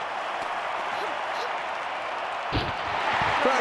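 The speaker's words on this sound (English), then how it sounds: "Crowd responding to that." Crowd applauding a women's high jump at a London 2012 stadium event, a steady wash of clapping and cheering throughout, with a commentator's voice briefly cutting in near the end.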